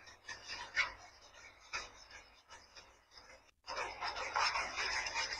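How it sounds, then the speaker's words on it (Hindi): A saw blade cuts through a pipe to free a cat stuck inside, giving a steady rasping scrape in close strokes that pause briefly, then return louder and more continuous. Background voices talk through much of it. "ब्लेड से कटिंग कर रहा है अब ये पाइप को।"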